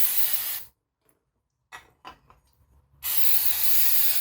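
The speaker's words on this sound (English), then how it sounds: "Step one. Get some brake clean." Brake cleaner spray hisses onto an Audi A4 B7 vacuum pump, a loud continuous spray burst, a pause with a few short softer puffs, then another sustained hissing blast.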